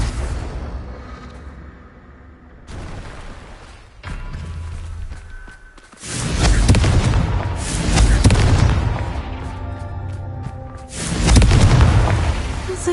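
Video-game blasting spell going off, a deep booming explosion with rumbling debris that swells and repeats, loud and dense with layered game sound effects throughout.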